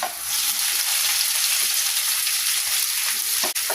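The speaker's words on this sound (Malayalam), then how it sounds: "ഇത് നല്ലവണ്ണം വഴറ്റണം." Onion, crushed ginger and garlic fry in hot oil with mustard seeds, fennel seeds, curry leaves and green chillies in a pan, a loud continuous sizzle close up with a brief stir near the end.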